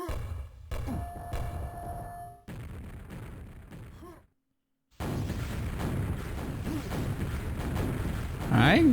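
Quakeworld match sounds in a QuakeCon 2021 semi-final: rocket launches and explosion thumps come in bursts, broken by a short silence, then a dense stretch of game noise with some talk underneath.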